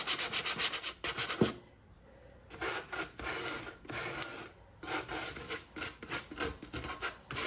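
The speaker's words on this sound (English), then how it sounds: "you do want a pretty rough sandpaper, but not so coarse that it just kind of scratches. You want it to sand nice and evenly." Rough sandpaper is rubbed by hand over painted thrift-store furniture. Loud, close scratchy strokes come in steady back-and-forth bursts, with a quiet pause near the start, and no one speaks.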